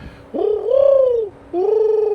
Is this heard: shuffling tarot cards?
no